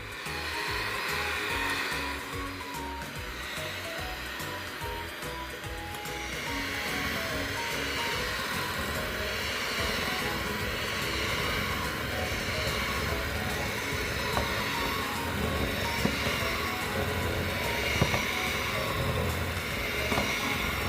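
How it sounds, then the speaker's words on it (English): An electric mixer creaming granulated sugar, brown sugar and vanilla in a large bowl, a steady whirring motor drone heard close and continuous for about twenty seconds, with no speech. "brown sugar, and vanilla in large bowl with mixer until creamy."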